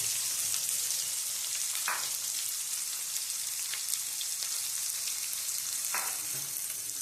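Onions fry in a pan for Gujarati tomato rice, a steady bright crackling sizzle that runs throughout, with occasional soft taps of a spoon stirring.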